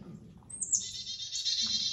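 A Carolina chickadee gives a short, close call of thin high whistled notes, a rising chip then a sustained buzzy series, brief and alone.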